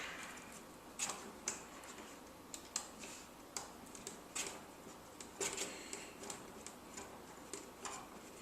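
A 2.0 mm Allen wrench spins a pin into the front A-arm of a Traxxas Slash 2WD RC truck, giving a string of faint, irregular small clicks and ticks close by.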